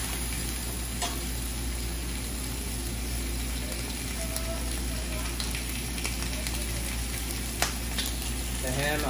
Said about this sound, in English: The ham, I'm just gonna get a little color on it